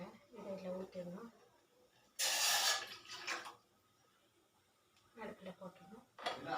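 Soaked tamarind water from a lemon-sized lump of tamarind is poured into a cooking pot for parupu takkali rasam, a brief, close splashing pour of about a second between stretches of quiet talking.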